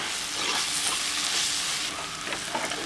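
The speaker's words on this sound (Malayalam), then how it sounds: "നന്നായിട്ട് വഴറ്റണം" Pepper powder, green chillies and turmeric sautéing in a hot pan for fish mappas, a loud, dense, continuous frying hiss with a few faint stirring scrapes near the end.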